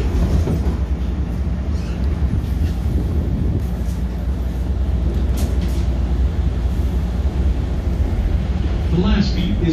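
A Chicago commuter train rumbles along in a steady, continuous roar with faint rail clatter, heard from inside near Oak Park, loud throughout with no pauses.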